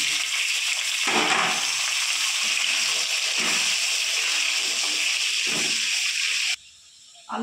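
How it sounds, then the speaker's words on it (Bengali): Potatoes fry in oil with tempering spices of whole cumin, garam masala and dried chillies, a loud continuous close-up sizzle with occasional stirring shuffles, stopping suddenly before a brief quiet and a final rustle. "আমি ফোড়নের মশলার সাথে আলুটা ভেজে নেব।"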